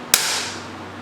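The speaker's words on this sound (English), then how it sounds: "and then we'll hit it with the hammer." One sharp metallic hammer strike on a rusted motorcycle brake part, close and loud, ringing briefly before fading into a low steady hum.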